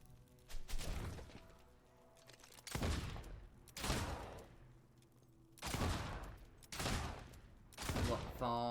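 Gunshots in the video game Fable 2 ring out as six sharp, echoing reports spaced about a second apart, each with a decaying tail, loud and alone without talk.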